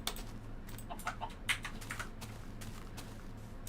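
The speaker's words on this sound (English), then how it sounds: "You hear me clicking." Computer keyboard clicked during a Minecraft game session, a quick irregular patter of light taps at close range with no talking.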